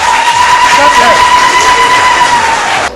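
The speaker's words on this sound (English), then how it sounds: "Clap hands for that, comrade." Crowd at a student movement gathering on a university campus applauding and cheering, a steady loud wash of clapping with a whistle-like tone running through it.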